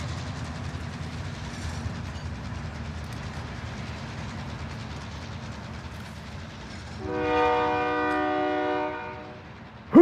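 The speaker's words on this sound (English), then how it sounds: "That train is in on Apex." A train in the video game Apex rolls along with a low steady rumble, then its horn blares in a long sustained blast before a sharp sound at the very end.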